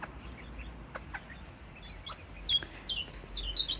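Small Serama chickens cluck and chirp softly in the evening, a few scattered high calls and squeaks over a quiet outdoor background.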